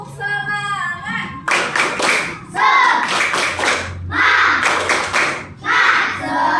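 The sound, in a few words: classroom children doing a rhythmic clap cheer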